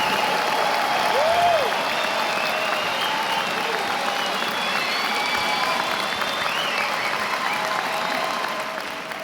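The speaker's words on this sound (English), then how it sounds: "Let's keep that applause coming." An awards ceremony audience applauds steadily and loudly, a dense wash of clapping with a bit of crowd noise that fades slightly at the end.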